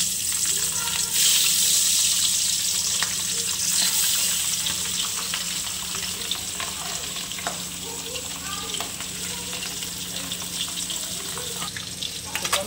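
Pabda fish frying in a hot wok (kadai), giving a steady, close, dense sizzle that holds throughout with no talking.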